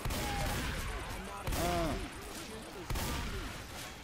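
Gunfire in Left 4 Dead 2 during a street run toward Liberty Mall, with a few sharp shots at irregular intervals cracking over a steady game ambience.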